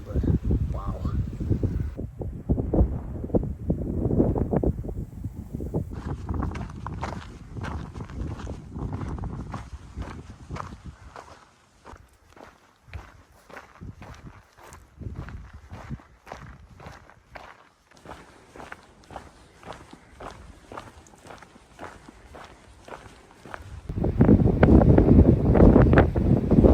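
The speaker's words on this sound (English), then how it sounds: "It is a windy one up here." Strong wind gusting across the microphone on a cold, exposed hike, with footsteps crunching steadily through the middle; louder buffeting bursts at the start and end.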